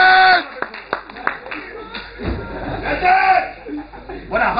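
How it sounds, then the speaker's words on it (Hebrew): Audience at a live stand-up comedy show claps in scattered bursts, mixed with laughter and a performer talking loudly over it. "כפיים!"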